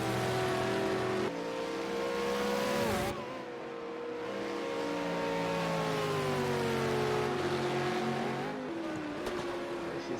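V8 Supercars race car engines roar at high revs around Bathurst's Mount Panorama circuit in a racing video game, a loud continuous whine rising and falling through gear changes, with a brief dip before climbing again.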